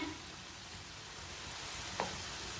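Cabbage and potato pakoras fry in hot oil with a steady, even sizzle throughout, broken once by a brief bright crackle near the end; no one speaks.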